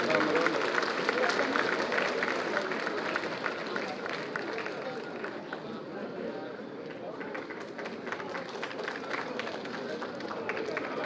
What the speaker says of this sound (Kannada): ಎಲ್ಲರೂ ದಯವಿಟ್ಟು ಚಪ್ಪಾಳೆಯಿಂದ ಸ್ವಾಗತ ಕೋರಬೇಕು